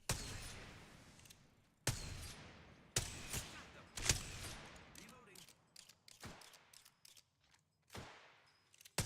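Rapid bursts of gunfire from a video game shooter, loud and close, with sharp cracks repeating in clusters and short gaps between volleys, while players talk over the action.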